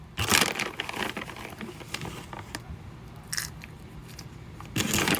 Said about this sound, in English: And chop them up.